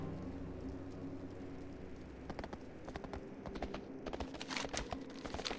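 A gnome riding a horse in World of Warcraft, with hooves clip-clopping in a quick, even rhythm that starts partway through and gets louder toward the end over a soft, constant background hum.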